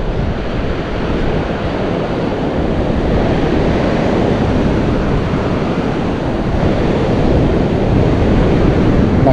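Loud, steady ocean surf breaking on a beach at high tide in El Salvador, a continuous churning wash of waves with wind noise over the microphone and no voices.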